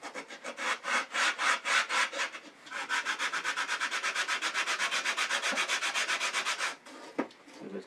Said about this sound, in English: sanding board just to get rid of the paper that's on here.